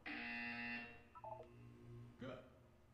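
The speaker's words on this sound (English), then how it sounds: "When you hear the buzzer, look down at the floor." A buzzer from the Portal 2 video game sounds as a loud steady electronic tone for under a second, followed by a short tonal beep sequence and another burst near the end, with faint talk underneath.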